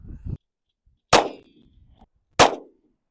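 A 10mm pistol fires two gunshots about a second and a half apart. Each is a sharp, loud, close crack with a short ringing tail, and a faint low rumble comes before the first shot.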